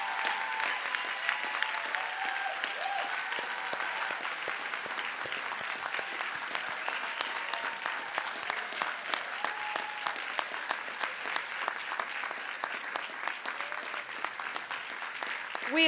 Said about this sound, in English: please join me for another round of applause for our retirees